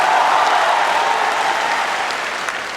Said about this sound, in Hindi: एक बार तालियां बजा करके इन सारे कवियों का आप स्वागत कर लीजिए।